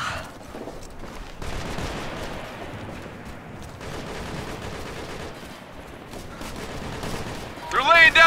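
Gunfire crackles through a firefight in Operation Flashpoint: Red River, sustained bursts and scattered shots at moderate distance running steadily under radio chatter and shouted talk.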